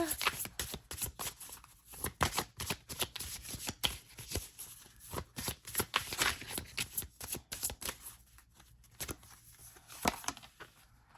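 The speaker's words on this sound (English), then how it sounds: "I'm going to pull one card for an overall message." Someone shuffles a Pure Magic Oracle card deck close up, with quick crisp riffles and soft papery flicks in uneven bursts and a faint voice in the background.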